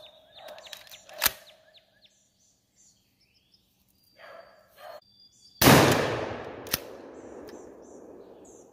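A Remington 870 shotgun loaded with magnum #4 buckshot and a modified choke fires one loud blast outdoors that rolls away in a long, fading echo, after quiet moments with a few sharp clicks and faint bird chirps.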